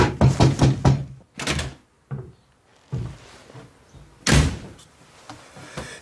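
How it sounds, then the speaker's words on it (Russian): Knocking on a wall or door indoors, several quick raps in a cluster at the start, then a few single heavier thumps and knocks spaced out, close and fairly loud with no talk. "Девель, ты чё стучишь?"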